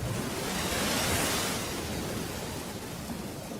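Ocean waves rushing as a broad, steady wash of surf noise, swelling slightly and then easing, with no voices.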